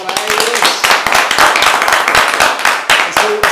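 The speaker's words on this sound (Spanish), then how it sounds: "un aplauso para" Applause and clapping for a band at an intimate Christmas special at home, a dense run of sharp, close hand claps from a small group, loud and steady with brief voices mixed in.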